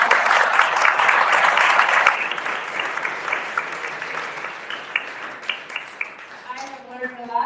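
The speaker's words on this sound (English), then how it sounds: "round of applause for our panelists" An audience applauds panelists at a Web3M x Microsoft event, steady crowd clapping that gradually thins, with a voice starting to speak over the tail end.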